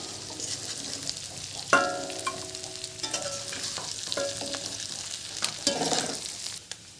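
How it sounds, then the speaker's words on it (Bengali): Prawns fry in hot oil in a pan with a steady bright sizzle, broken by sharp metallic clinks and scrapes of a spatula stirring them. "চিংড়ি মাছগুলো হালকা লাল করে ভেজে নেব"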